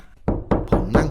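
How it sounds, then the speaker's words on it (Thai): Knocking on a door at night, used as a sound effect in a Thai ghost story: four heavy, hollow knocks in an even, slow rhythm, loud and close. "มีเสียงเคาะประตูตามมา"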